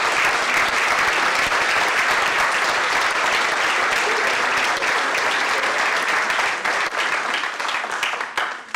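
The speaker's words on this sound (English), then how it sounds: "I would love to give those folks a round of applause" A large audience applauds steadily at a Princeton student startup pitch event, a dense wash of clapping that holds throughout and tapers slightly at the end.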